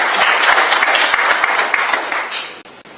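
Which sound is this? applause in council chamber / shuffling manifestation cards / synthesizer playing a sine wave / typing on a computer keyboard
applause in council chamber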